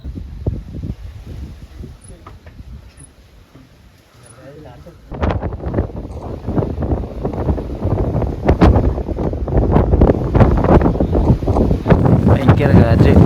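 Strong wind buffets the microphone on Kalsubai mountain at night, quieter at first and then surging into loud, gusty roaring rumble that continues to the end.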